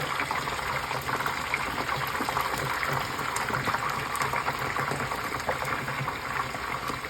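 Chicken hot wings fry in hot oil under a covered pan, a steady loud sizzling hiss that stays constant throughout with no talking.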